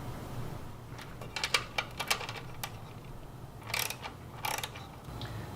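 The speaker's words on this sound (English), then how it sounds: "Remove the nuts and spacers from the control board using a 5/16 inch socket." Small metal nuts and spacers being removed from a Star two-sided grill's control board with a 5/16 inch socket wrench, giving a sparse run of short clicks and ratcheting ticks, close and fairly quiet.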